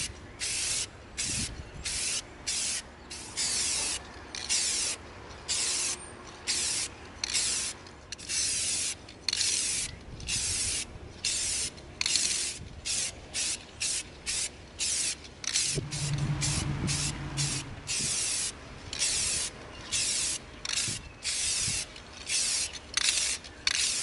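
Repeated hissing bursts of a spray paint can coating an EVA foam knife, short sprays separated by brief pauses, close and fairly loud, with faint handling clatter between.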